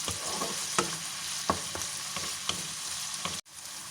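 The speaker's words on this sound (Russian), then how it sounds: "Овощи поджарились" Vegetables and sausages fry in a pan with a dense, continuous sizzle, punctuated by sharp stirring clinks and scrapes at irregular intervals, close up and with no voices, before cutting off abruptly near the end.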